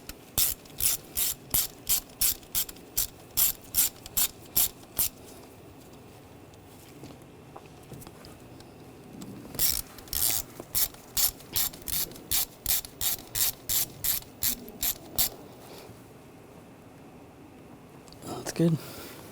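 A hand ratchet tightening the valve cover bolts on a 2006-2010 BMW 550i 4.8L V8, sounding as two quick runs of sharp, evenly spaced clicks close up, with a short pause between them.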